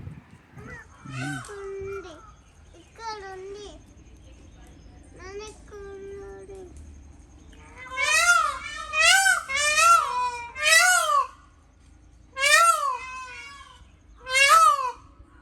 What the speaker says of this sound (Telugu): ఇక్కడ నెమళ్ళు ఉన్నాయి ఇక్కడ నెమళ్ళు చూస్తున్నా కదా